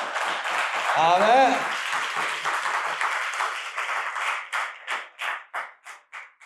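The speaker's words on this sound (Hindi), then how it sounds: "क्यों ना प्रभु के लिए ताली" A church congregation at HOW Church International in Canada clapping for the Lord during a sermon. A voice speaks at first, then the crowd breaks into rhythmic, evenly spaced claps that keep a steady beat to the end.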